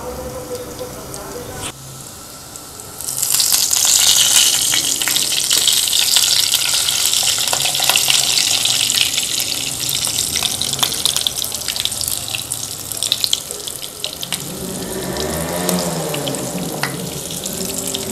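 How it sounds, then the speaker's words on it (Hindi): Beef kebabs fry in a little oil, quiet at first, then a loud, close, steady sizzle that eases slightly toward the end, with a voice speaking over it at times. "कबाब को फ्राई कर लेते हैं। ऑयल डाला मैंने थोड़ा सा।"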